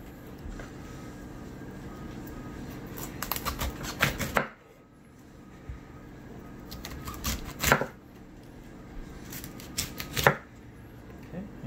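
A knife cuts into a head of cauliflower on a board in loud crunching, chopping bursts, three clusters spaced a few seconds apart, with quieter gaps between them.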